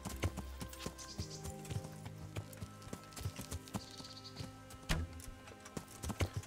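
Horse hooves clip-clopping in Kingdom Come: Deliverance, a steady run of close hoofbeats with irregular rhythm, a short whinny-like cry in the mix, and faint talk underneath.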